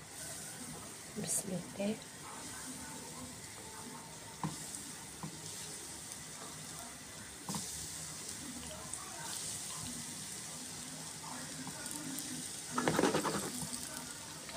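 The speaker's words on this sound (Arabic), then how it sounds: "اول ما الزيت ما سخن بدأت ان انا انزلهم كده في الزيت" Potato balls dropped into hot oil crackle and sizzle with a steady frying hiss, quiet and continuous, with brief louder splashes and bubbling near the end while someone talks.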